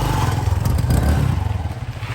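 A motorcycle taxi engine on a Kigali street chugs close by in a brief, throbbing idle with a slight rev, loud and alone.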